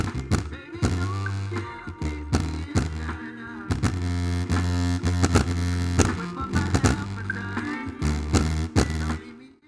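A homemade speaker built almost entirely from Lego plays music at full volume from a 9-volt battery, giving a loud, steady stream of rhythmic bass-heavy notes with strong low hum and some buzzy distortion throughout.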